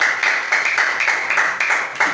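A small group claps in applause for group 2, heard as close, bright and fairly loud bursts that recur at a rhythmic beat of roughly four per second for a couple of seconds, with no voices.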